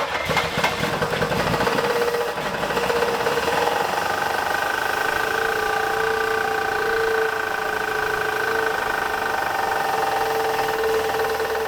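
The V8 engine of an old Buick LeSabre that sat for 34 years runs steadily on fresh gas after new points and plugs. Its loud, close, continuous idle carries a faint rough knock, with no talk over it.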